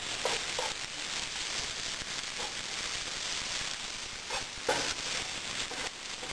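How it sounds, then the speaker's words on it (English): Raisins and cubes of raisin bread stirred in a hot pan give a steady low sizzle throughout, broken by a few brief scraping clinks of the utensil against the pan. "And just kind of mix it until the bread's slightly toasted and warm."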